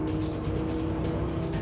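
A car driven hard around a public race track, a continuous loud engine drone under load with a rushing, whooshing character and a hint of tyre noise, close and steady with no speech.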